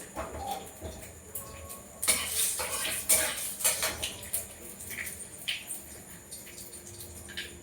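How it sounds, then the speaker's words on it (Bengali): Black cumin seeds are tempered in a cooking pot, with a spoon clinking and scraping against metal and seeds crackling in hot oil in several sharp bursts, loud and close. "এখন আমি কালো জিরে ফোড়ন দেবো।"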